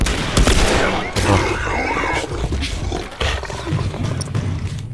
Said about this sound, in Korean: It's been infected for a long time. We call them bloaters.